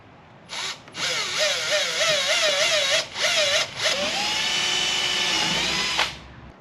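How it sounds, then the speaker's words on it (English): A power drill whines loudly up close, drilling holes to mount a top case rack on a Can-Am Spyder, starting and stopping a few times with wavering pitch as it bores, then a long steady run before cutting off. "So drill 4 holes."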